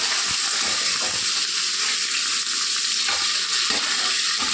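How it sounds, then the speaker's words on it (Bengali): Already-fried half fish head being broken apart in a hot pan with chopped green chilli, a steady oily sizzle filling the whole stretch with faint scraping bursts, close and continuous with no talk. "মাছের মাথাটা আমি পুরো ভেঙে দেবো।"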